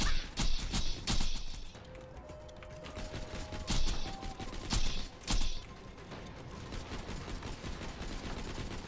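Gunfire in Borderlands 2, a series of sharp, loud shots in irregular bursts with brief pauses between them, over busy game sounds.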